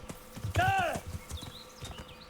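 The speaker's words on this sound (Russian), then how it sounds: "Лошадей хоть заберите с дороги" Horses' hooves clip-clopping in the medieval video game Kingdom Come: Deliverance, a few soft close steps mixed with a brief whinny-like tone and game ambience, with people talking over it.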